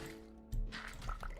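Water trickling and splashing from water pockets while mining in a Minecraft survival world, a soft wet gurgle with a couple of small drip-like splashes, fairly quiet and with no talk over it.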